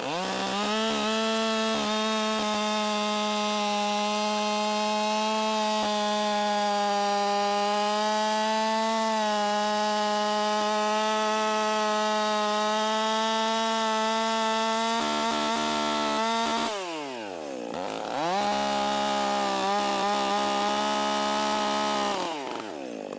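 Chainsaw bucking ash and oak rounds into blocks for a wood splitter demonstration, engine running loud and steady at a high constant pitch, then dropping off briefly and revving back up near the end, with no talking.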